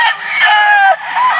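Sweater Boston gamefowl rooster on a gamefarm crowing loudly and close, one sustained crow with a brief break near the end, with no talking.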